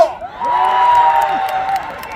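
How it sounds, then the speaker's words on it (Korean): A crowd at an outdoor town festival concert in Hongcheon cheers and screams, a sustained bright roar that swells after a brief onset and slowly fades. "지금 이렇게 환호한 사람들 올해 정말 재수 있습니다"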